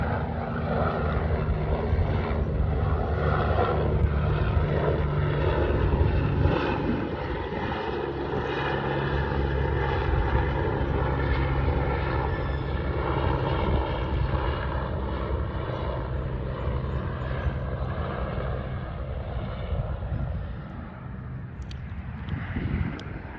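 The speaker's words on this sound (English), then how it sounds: "Military helicopter." A military helicopter flies overhead, a loud, steady engine and rotor drone that carries on unbroken for over twenty seconds and eases slightly near the end, with no voices.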